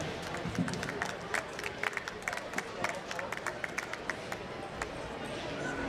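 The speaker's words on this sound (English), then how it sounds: "Round of applause for the Dark Knight crew." Spectators at the RoboBOTS 2024 robot fighting competition applauding a team after a bout: faint, distant clapping scattered over a murmuring crowd and background hall noise.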